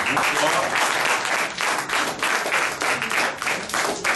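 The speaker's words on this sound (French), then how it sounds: "vous demande d'applaudir très fort Laurent." Steady, enthusiastic applause from a crowd at an evening event at the Haitian consulate, with dense clapping filling the whole stretch at a fairly loud, even level.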